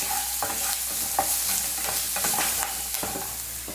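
Crushed ginger and garlic frying in a pan for onion rice make a steady close sizzle, broken by repeated scraping stirs of a spoon at an uneven rhythm, with no talking.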